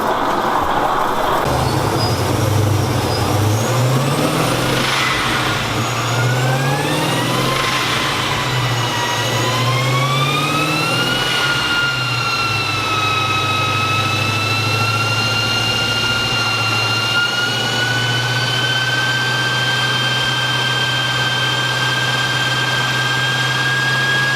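Car engine fitted with a Torqstorm supercharger, run after a fuel pump repair, revving up with a rising whine that climbs through several pulls and then holds steady and loud, close and continuous for the whole stretch.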